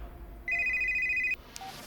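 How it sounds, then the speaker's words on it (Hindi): Single short electronic phone ring, a steady bright tone under a second long, clear over a quiet room with no talk. "अभी फोन आएगा"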